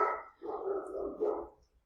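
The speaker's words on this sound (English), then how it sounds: "Oh, the barking." A dog barking nearby, two or three drawn-out, howling barks run close together and fading at the end, loud and alone.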